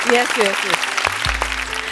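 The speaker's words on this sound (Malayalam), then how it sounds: "രമേശൻ ചേട്ടന് നല്ലൊരു കൈയടി." Audience applause for a singer on a stage show, a crowd clapping steadily in a broad wash while a voice speaks and sustained tones sound over it.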